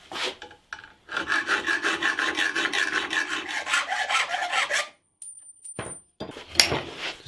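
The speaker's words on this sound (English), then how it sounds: "Just file off the burrs." A metal file rasps rapidly back and forth across a screwdriver shaft to remove burrs, a close, rhythmic scraping for about four seconds, then a short pause and a few brief final strokes.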